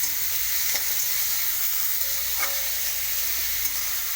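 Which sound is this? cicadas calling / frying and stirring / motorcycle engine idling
frying and stirring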